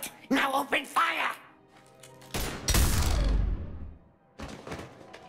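Gunfire in the video game Mass Effect 3 breaks out as a loud, dense burst of shots and booming impacts in the middle, with voices talking before and after.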